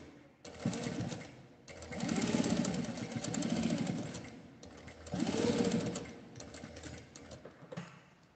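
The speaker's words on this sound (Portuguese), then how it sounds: "agora eu vou passar um pesponto de cima e embaixo nessa parte aqui" Sewing machine topstitching the top and bottom of a small fabric card and coin purse, running in several bursts of steady rapid stitching with short pauses between them, close and clear.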